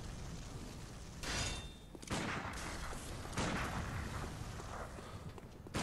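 Chaotic, rapid gunfire in the video game Bloodborne, heavy booming bursts of shots that come in several loud waves, with no talking.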